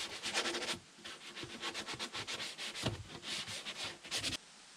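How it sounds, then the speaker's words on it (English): Edges of a wooden dog kennel box being hand-sanded, a quick run of rhythmic rough rubbing strokes, close and fairly quiet, with no talking. "I sanded all the edges so no one will get a sliver."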